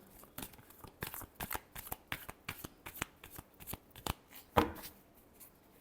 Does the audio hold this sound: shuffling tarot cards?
yes